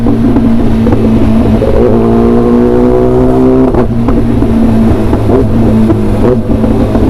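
The Kawasaki ZX10R big bike's engine revs hard through a loud, sporty exhaust, rising in pitch through the gears and then settling and climbing again, close and continuous on a wet road.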